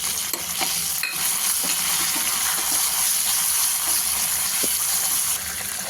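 Curry leaves sauté in a hot pan for a Kottayam-style fish curry, giving a steady, continuous sizzle with faint stirring scrapes throughout.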